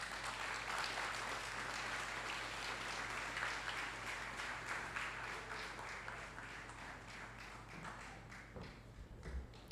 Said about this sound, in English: I'm going to have to ask for another round of applause